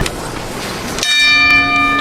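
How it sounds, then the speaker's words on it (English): A boxing ring bell rings out at the end of the eighth round of a pro bout, one sharp clang with a long ringing decay above a noisy arena crowd. "The bell in round number 9, past round 8."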